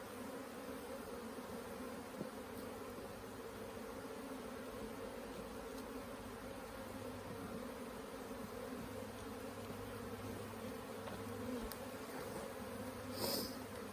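A honey bee swarm buzzes in a steady, faint, continuous hum, with a few brief nearby bee passes standing out against the drone and no voices.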